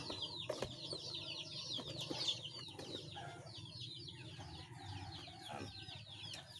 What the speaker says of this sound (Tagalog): Sabay magpakain na tayo sa ating mga alagang sisiw.